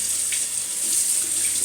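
Warm water runs steadily from a bathroom tap as a makeup brush is rinsed under it, a constant close hiss of flowing water with no talk.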